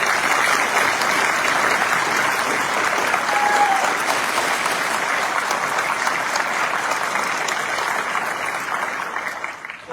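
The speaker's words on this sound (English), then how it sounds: "if we can please give a round of applause." A sustained round of applause at an army chaplain course graduation ceremony, dense and loud from the start, holding steady and tapering slightly near the end.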